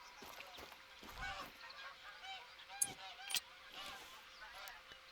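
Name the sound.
geese honking in a video game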